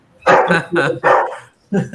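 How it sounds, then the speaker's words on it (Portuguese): A house dog barking loudly at the doorbell, with four close, heavy bursts in an uneven rhythm that run together with a person's voice speaking. "o cachorro agora endoidou"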